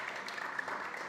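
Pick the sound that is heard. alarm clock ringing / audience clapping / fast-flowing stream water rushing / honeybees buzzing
audience clapping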